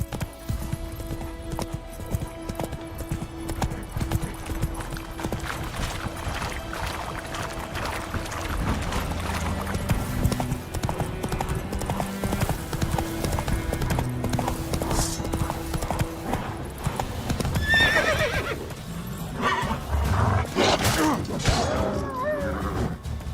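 A horse in the video game The Witcher 3 gallops with a steady rapid clip-clop of hooves, loud and continuous, joined by a whinny and game music tones over the ride.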